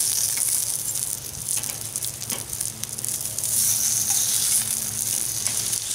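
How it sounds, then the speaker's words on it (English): Pork belly and onions sizzling steadily on a hot grilling stone for a BBQ pork belly sandwich, a close, continuous crackling hiss with small pops throughout. "Now just take your pork belly, place it right on the grilling stone for 1 or 2 minutes on each side."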